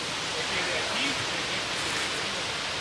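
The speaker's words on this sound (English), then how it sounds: "There's a stream, the one that we've already crossed a couple times." A stream in the cloud forest of El Cusuco National Park, Honduras, flows steadily, a continuous broadband rush of water heard close and fairly loud without pause.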